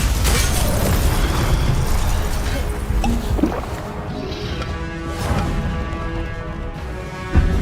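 A Glacius ice spell is cast in Hogwarts Legacy on Switch 2, heard as a loud crackling burst and boom amid ongoing battle noise that fades into a softer rumble, with a few sharp impacts trailing off.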